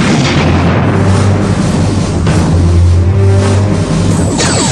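Starship weapons fire and explosions during a space battle in the Star Trek Bridge Commander video game, loud booming blasts and rumbling impacts over a low droning hum, with several distinct hits spread across the passage.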